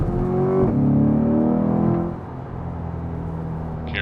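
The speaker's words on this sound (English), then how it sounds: "that M3 exhaust sounds real nice" A BMW M3 exhaust roars loudly past in a street-race flyby, its engine note holding strong, then shifting down and fading into a steady lower drone.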